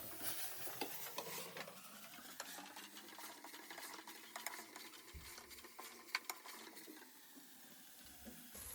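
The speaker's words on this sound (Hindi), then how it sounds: "1 मिनट हम कीमे के साथ इसे अच्छी तरीके से फ्राई करेंगे।" Minced meat frying in a pan with crushed garlic, ginger and green chillies, a faint continuous sizzle broken by scattered clinks and scraping stirs, heard alone without talk.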